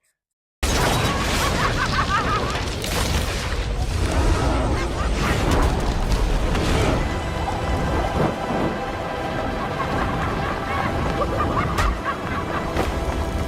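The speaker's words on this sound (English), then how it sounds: "he fires a rocket launcher at Joker, and Joker just takes the hit" Rocket launcher explosion in the video game Batman: Arkham Origins: a loud, rumbling blast followed by a sustained roar and crackling debris that fills the whole stretch, with scattered sharper hits.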